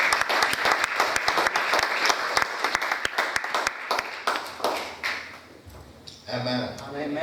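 Congregation at a Sunday church sermon clapping hands together, a dense steady burst of many hands that thins out and fades into quieter room sounds and a short voice near the end.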